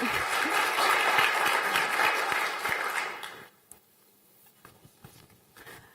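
An audience at a design awards event claps in sustained, dense applause for about three seconds, then it dies away to a few scattered claps and quiet room noise.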